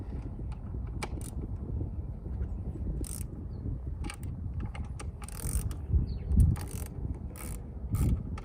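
Bolts being removed from the top of a Jeep Gladiator, with a series of close metallic ratcheting clicks and clanks in short irregular bursts over a low background rumble.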